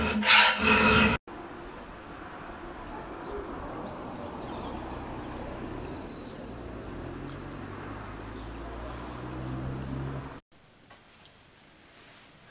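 A round file rasps through a saw chain's tooth, steady repeated scraping strokes heard up close for about ten seconds, bracketed by brief louder handling noise at the start and a quieter stretch at the end.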